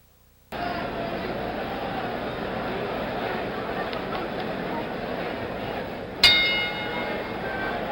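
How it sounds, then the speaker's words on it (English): A boxing ring bell at a 1977 heavyweight bout between George Foreman and Jimmy Young rings once to start round four. It is a single sharp clang with a brief ringing decay, heard near the end over steady crowd noise and broadcast hiss. "The bell for round 4."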